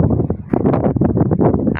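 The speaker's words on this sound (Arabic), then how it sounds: "بس هوا عالي" Strong wind on Zawa mountain near Duhok blasts across the microphone as a loud, continuous low rumble that surges and dips with the gusts for the whole stretch.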